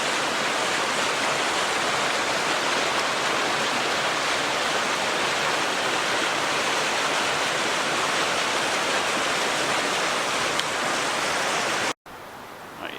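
Mill Creek rushes through a scenic gorge near waterfalls, a loud, continuous broadband roar of flowing water that cuts off abruptly near the end before fainter water noise resumes.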